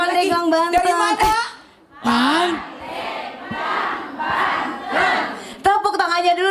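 An audience at an Indonesian Islamic sermon gathering bursts into loud, sustained cheering and clapping for about three seconds, framed by someone speaking through a microphone before and after.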